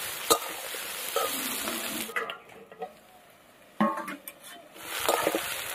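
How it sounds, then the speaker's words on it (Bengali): Potatoes and onions fry in a pan with a soft sizzle that rises and falls, broken by stirring clatters and brief scrapes at close range. "পেঁয়াজ দিয়ে আলুর সাথে ভালো করে ভেজে নিতে হবে"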